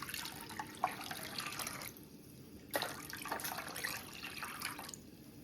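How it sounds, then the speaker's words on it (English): Water from a tap runs into a kitchen pot for a pretzel water bath, a quiet splashing stream that pauses briefly and then resumes, with small clinks near the start and middle. "Add 6 cups of water to a pot."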